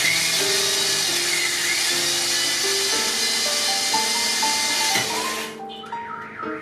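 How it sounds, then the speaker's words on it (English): A drill fitted with a hole-saw bit cuts into PVC, whining loudly and steadily with shifting pitch before the cutting cuts off near the end. "So these are like these sawing drill bits."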